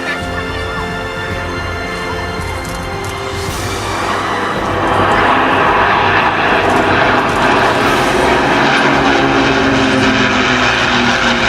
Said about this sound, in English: 6 Rolls-Royce Merlins. The Battle of Britain Memorial Flight.